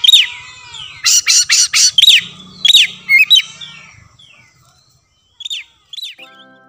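A kacer (magpie robin) calls up close in a rapid series of sharp, loud chirps and whistled notes, pausing briefly before a few final calls, with faint background noise underneath.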